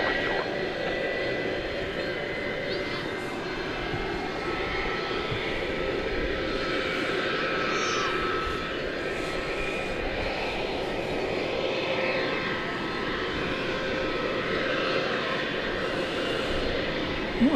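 Turkish Airlines Boeing 787 Dreamliner jet at DFW airport after dark, a steady broad engine roar holding level through the whole stretch with a faint whine on top, mid-distance and continuous.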